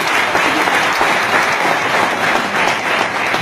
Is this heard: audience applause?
yes